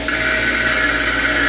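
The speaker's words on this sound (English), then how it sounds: "I just put them in my old cordless drill here and run them against the buffing wheel." A cordless drill spins 1948 Ford 8N tractor engine valves against a buffing wheel, producing a steady high whine with a grinding hiss, close and continuous.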